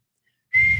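A person whistles a single sharp, steady high note that starts abruptly after half a second of silence and holds, fairly loud and close.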